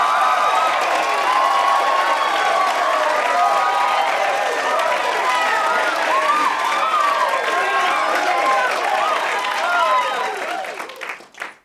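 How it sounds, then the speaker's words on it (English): A live podcast audience claps, cheers and whoops for guest Ari Aster, a loud, dense crowd roar that holds for about ten seconds, then thins to scattered claps. "Give him a round of applause."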